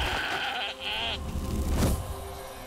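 A goat bleats in the strategy RPG Wartile as it is offered on an altar, a couple of close, wavering cries with a brief pause between, loud and alone.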